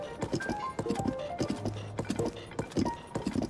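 Horse hooves clip-clopping at a steady walking pace in The Legend of Zelda: Tears of the Kingdom, fairly close, with faint chimes and soft background sounds.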